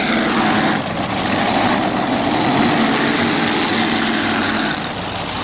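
A monster pulling tractor with multiple engines roars at a 1987 tractor pull in Fishersville, a loud, dense, sustained mechanical drone with slight swells that holds steady from start to finish.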